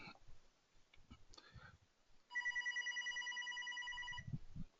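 A landline telephone rings with a steady electronic warble lasting about two seconds, fairly loud and close, following scattered clicks and light handling noises in a quiet room.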